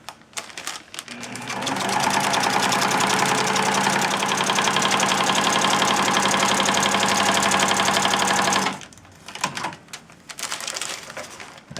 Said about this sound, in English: I sew a good long way to make sure everything kind of meshes together.